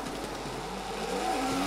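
A drift car's engine roars steadily at an international drift competition in Oman, sustained and loud with rising whine tones toward the end as it swings through a transition.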